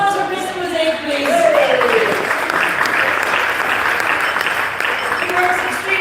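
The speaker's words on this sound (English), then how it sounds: "Round of applause for Mr. Mosaic, please." Auction audience at the Southampton International Boat Show 2024 breaks into loud, sustained applause lasting several seconds, with a voice carrying over the clapping.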